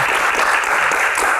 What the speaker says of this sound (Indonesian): tepuk tangan buat Mbak Dewi